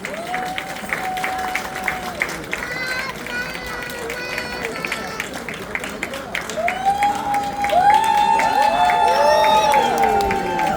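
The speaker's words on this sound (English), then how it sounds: "A big round of applause, ladies and gentlemen, for this group." An audience at India Fest 2024 in Frankfurt applauds Smita's Dance World Kathak group. Steady clapping and cheering swell noticeably louder in the last few seconds, mixed with voices and tonal music.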